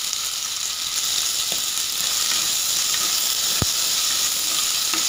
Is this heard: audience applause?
no